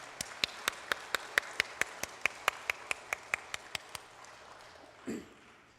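At a Korean church Parents' Sunday service, the congregation claps for the Hallelujah choir in quiet, sharp, evenly spaced beats, about seventeen in a row, then stops, leaving a brief soft thump and near silence.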